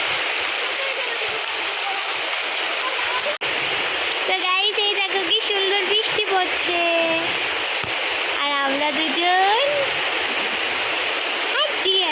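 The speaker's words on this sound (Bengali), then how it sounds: "ভীষণ বৃষ্টি হচ্ছে বাইরে গাইস" Heavy rain pours outside in a loud, unbroken rushing wash. A voice speaks over it for much of the time.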